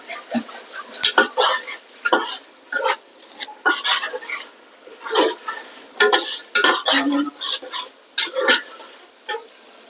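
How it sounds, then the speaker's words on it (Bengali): Close-up clatter of a spoon scraping and stirring meat masala frying in a pan for duck curry, irregular bursts of metallic scraping with a faint sizzle, no talking. "মাংসের মশলা একটু ভাজা ভাজা হোক।"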